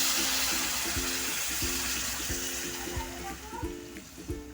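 Water poured into a pan of masala-coated raw jackfruit curry, a steady splashing pour with a faint sizzle, fairly close, with repeated low thuds under it and no talk.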